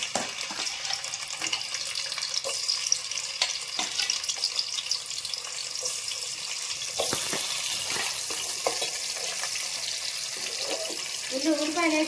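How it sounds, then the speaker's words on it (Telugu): Water runs into a hot cooking pan, splashing and hissing against the tempering for banana curry, with a continuous close gush and intermittent sizzling crackles. "నీళ్ళు పోసుకుందాం."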